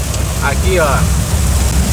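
Heavy rain falls on the road between Fernando Pedrosa and Lages in Rio Grande do Norte, a steady dense hiss heard close up, while someone speaks briefly over it.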